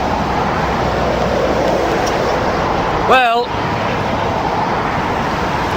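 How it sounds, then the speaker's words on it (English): Heavy road traffic near the M6 motorway at Sandbach service station makes a loud, constant roar, with a brief voice and a short squeaking sound partway through. "That traffic's a bit loud, isn't it?"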